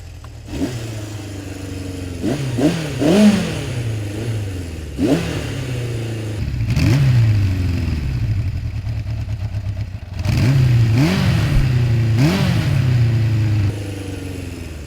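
A Honda CB 750 Four four-cylinder motorcycle engine is revved close-up in several throttle blips that rise and fall, then settles into a louder sustained drone between the revs, with no voices.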